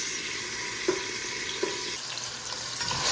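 Onions and tomatoes sizzle in a frying pan while being stirred, with a few distinct scraping strokes over a steady close fry, made as the sauce for a canned mackerel dish.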